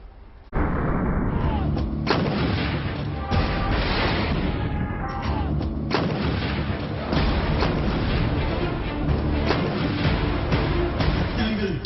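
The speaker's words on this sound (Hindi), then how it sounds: "इस बार दिल्ली में होविल्जर तोप की गर्जना भी सुनाई देने वाली है" Repeated heavy booming blasts from large howitzer artillery guns, firing one after another in a sustained barrage, loud and close with rumbling echoes between shots.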